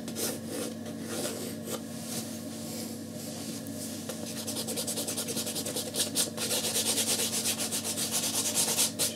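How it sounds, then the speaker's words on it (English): An eraser rubbing out pencil marks on watercolour paper, a close, continuous scratchy scrubbing that turns into quicker, rhythmic back-and-forth strokes toward the end, with no talking. "Just lightly rub it out."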